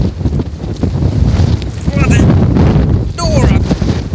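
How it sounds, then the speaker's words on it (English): Strong wind buffets the microphone outdoors while someone walks through snow, a loud, continuous gusty roar with brief voice-like tones partly heard through it. "And the wind."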